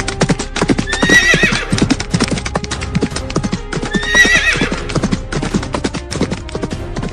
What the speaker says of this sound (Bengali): ফাঁকা মাঠের মধ্যে দিয়ে তিনজন ডাকাত ঘোড়া ছুটিয়ে আসছে।